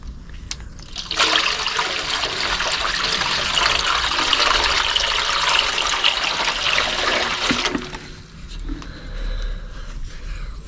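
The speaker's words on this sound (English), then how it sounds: "flood this with water so that all the contents here are submerged" A full bucket of water is poured over a forest school campfire to drown its hot spots, a loud continuous gushing splash lasting several seconds close by, then breaking off into faint trickles and hissing.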